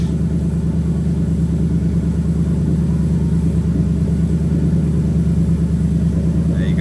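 A Toyota 1UZ-FE VVT-i V8 swapped into a right-hand-drive Lexus IS200 idles at about 1000 RPM, giving a steady, even, low rumble close to the microphone with no revving.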